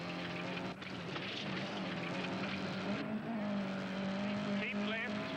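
Rally car driven hard on a 1979 Castrol International Rally stage, its engine droning steadily and loud throughout, with a brief dip and a shift in pitch partway, voices talking over the motor noise.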